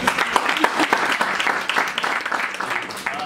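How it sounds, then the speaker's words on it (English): An audience at a political party launch in Namibia applauds steadily, a dense, fairly loud clatter of many hands filling the space throughout. "Let's give him a round of applause."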